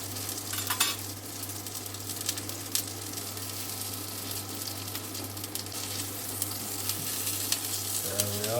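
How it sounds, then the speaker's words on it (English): Turbot pan-frying in a hot pan, a steady loud sizzle with crackling spits throughout, a constant hum underneath and a few light clinks, no talking. "So you can see now it's starting to cook all the way through."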